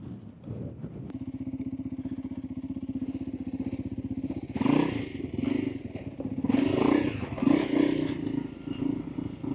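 A Honda CRF300L motorcycle is ridden on a dirt trail, its engine thrumming steadily close by, then bursts of clatter, scraping and thumps as the bike rolls over rough ground, with no talk.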